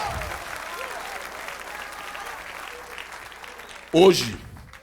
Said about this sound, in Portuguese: Aplauda a Deus pela existência da igreja.